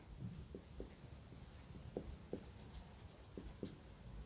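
A marker or chalk writes on a board during a class 6 math lesson, faint scratchy strokes and light taps in an irregular rhythm, close and quiet with no voices.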